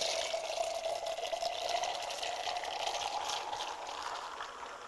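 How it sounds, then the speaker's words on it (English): Highly carbonated soda water pouring from a Benchy Sparkling dispenser, a steady fizzing hiss and splashing stream that runs continuously at moderate volume. "Now that is a beautifully and highly carbonated soda water."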